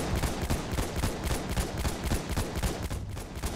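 Rapid bursts of automatic gunfire crackle continuously, dense and sharp, with a slightly processed, game-like quality, from the video game Battlefield 1.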